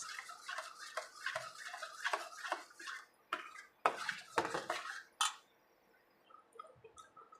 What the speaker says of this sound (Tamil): இதை நல்லா கைவிடாமல் நல்லா கட்டி விடாமல் நல்லா கிண்டிக்கிட்டே இருங்க